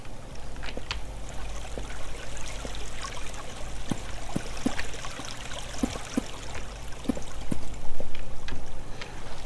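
Flowing water runs continuously in the video game Minetest, a steady rushing trickle with small clicks and taps over it, alone and with no talking.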